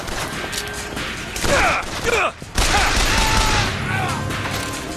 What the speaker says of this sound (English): This repeater shoots so slow.